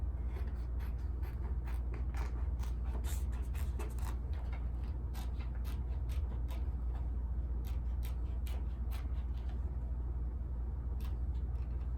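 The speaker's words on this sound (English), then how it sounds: "So I'm just gonna cut this out really quick." Heat transfer vinyl being cut, giving a steady stream of faint ticks and light scrapes above a constant low hum for the whole stretch, close and continuous with no talking.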